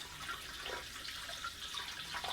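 Water pours steadily from a watering can in a soft, continuous splashing stream, close by and fairly quiet, with no voices.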